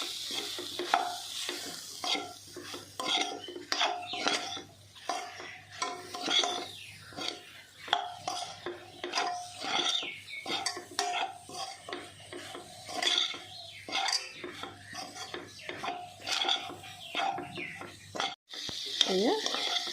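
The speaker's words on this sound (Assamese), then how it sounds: "এতিয়া এইখিনি ভালকৈ মিলাই দিব।" A spoon scrapes and stirs soya chunk veg biryani with ghee, biryani masala, coriander and cumin powder in a pan, rhythmic close scratching strokes over a soft sizzle for twenty seconds, with no speech.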